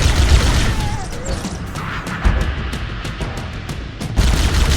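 Rapid automatic rifle fire in the video game Halo CE crackles in dense continuous bursts, loud and close, over a steady game soundscape with a brief pause midway.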